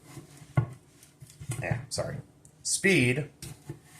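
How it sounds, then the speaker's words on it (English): Chef's knife slicing through food on a cutting board, a few sharp taps and scrapes against the board between spoken instruction, close and fairly quiet. "kind of with an undulating motion, just slice right through it"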